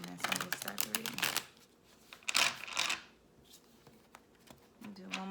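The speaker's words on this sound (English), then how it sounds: "I just ask you to tell me when to stop shuffling" Tarot cards being shuffled during a reading, a run of quick papery riffles and flicks in short bursts with pauses between, close and moderately loud, with a voice speaking briefly near the end.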